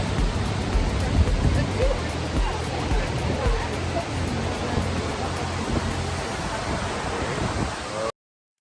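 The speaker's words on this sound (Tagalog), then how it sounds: "Multnomah Falls is a waterfall located on Multnomah Creek in the Columbia River Gorge" Multnomah Falls on Multnomah Creek in Oregon's Columbia River Gorge pours with a steady, dense roaring rush of falling water, loud and continuous before cutting off abruptly.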